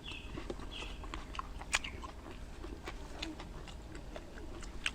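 Black pepper pork chop steak being chewed slowly, with soft close bites and small crunches in an irregular rhythm under faint background noise.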